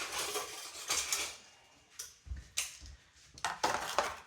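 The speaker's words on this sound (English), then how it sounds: "I'm gonna flip it over, get some tongs." Metal tongs clink and clack against a pan while seasoned pot roast meat is flipped over, giving a few sharp, close knocks spread through a quiet kitchen moment with no talking.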